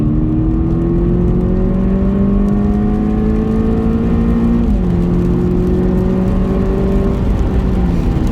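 A Volkswagen Polo 6R GTI engine revs hard under full throttle with kickdown, its pitch climbing steadily, dipping briefly at a gear change, then rising again, loud and close.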